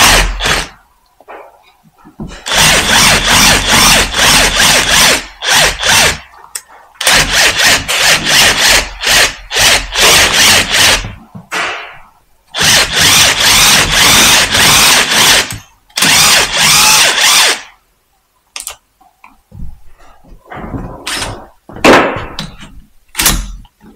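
A power tool gun works on a bolt on an Aprilia RS660 motorcycle, running in loud, close bursts several seconds long with short gaps in between and a few briefer pulses near the end.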